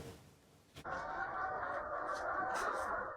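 Hens cluck at a poultry farm in Kano where around 8,000 laying chickens are kept, a broad, busy wash of flock noise rising abruptly and holding steady with a few louder calls on top, with no talking.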